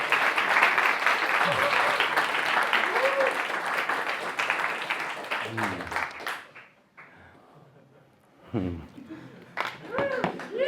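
A Sydney Fringe comedy show audience gives a dense round of applause with some cheering, fading out around the midpoint before a few voices and scattered claps return near the end.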